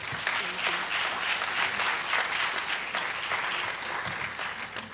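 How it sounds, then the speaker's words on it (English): Applause from the audience at a health forum honoring a congresswoman: a steady, full wash of clapping that holds level throughout, with no speech over it. "Let's give her a round of applause."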